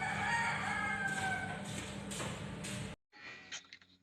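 A rooster crows close by in a long, loud call, followed by a few softer clucks and rustling after a brief pause.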